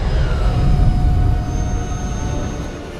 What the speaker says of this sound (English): We sort of built the rocket rumble to be this big, low-end, weighty component, and then the jet component, sort of a high-frequency component